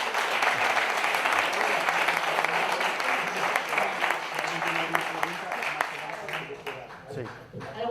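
An audience applauds after a talk at a conference, with a sustained, even wash of clapping for several seconds that thins toward the end, and voices faintly underneath.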